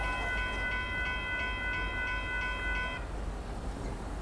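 Northbound Union Pacific boxcar freight train passing at a road crossing on a Sunday morning in Austin, a steady rumbling roar with a ringing crossing-bell tone that stops partway, heard alone.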